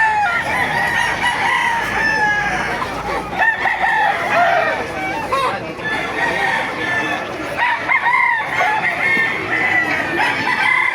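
Roosters crow loudly over a constant din of clucking chickens at a busy poultry market in Baliuag, Bulacan, a crowded yard with faint voices mixed in.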